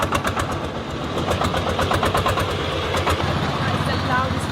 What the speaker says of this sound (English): loudest vehicle I've heard in ages because literally everything in China is electric